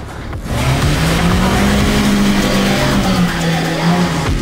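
A Chery Tiggo 8 Pro Max SUV in second gear, tires let down to 1.5 bar, climbs a small sandy hill, its engine droning loudly and steadily under load after a brief quieter start, with no talk heard.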